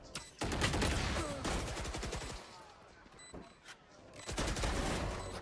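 Rapid bursts of gunfire ring out during a competitive shooter match, with quick strings of shots up front and more near the end, and a commentator talking over them.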